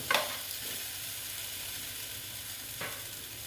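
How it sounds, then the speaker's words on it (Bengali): Potatoes fry with masala in a pan for an egg capsicum curry, giving a soft, continuous sizzle with a couple of brief scrapes of stirring, quiet and close with no talk. "আলুগুলো এটার সঙ্গে কষিয়ে নিচ্ছি মশলাটার সঙ্গে"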